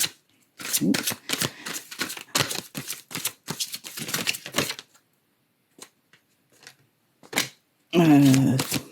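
Tarot cards shuffled by hand in quick bursts of crisp riffling and slapping, loud and close, with pauses between bursts and a voice speaking near the end.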